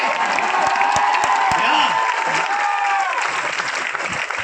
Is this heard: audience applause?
yes